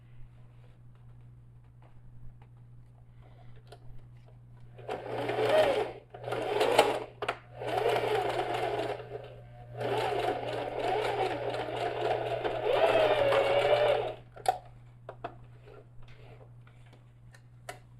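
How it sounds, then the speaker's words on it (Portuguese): A sewing machine stitches a safety seam on a bag-style pouch in several runs of rapid mechanical whirring and clicking, separated by brief pauses, close over a steady low electrical hum. "Fiz uma costura, tá ok. Costura de segurança"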